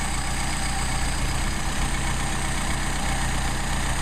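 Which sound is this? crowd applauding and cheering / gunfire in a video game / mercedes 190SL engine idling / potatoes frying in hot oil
mercedes 190SL engine idling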